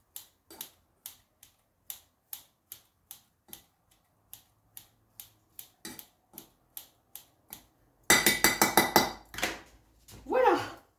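Scissors snip through spring roll filling in a steady series of crisp, evenly spaced cuts, followed by louder clattering and stirring at the end.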